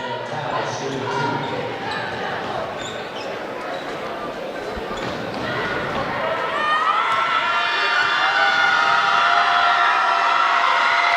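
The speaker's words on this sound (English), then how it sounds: "it's a loud crowd tonight" Loud, roaring crowd at a high school basketball tournament semifinal, a dense wash of cheering and shouting that swells louder in the second half and carries on throughout.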